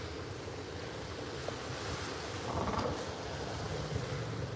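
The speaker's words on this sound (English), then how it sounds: "You're listening to the waves hit the sand." Waves wash onto the sand at Pattaya beach in Thailand, a steady broadband roar with a gentle swell midway, with no voices.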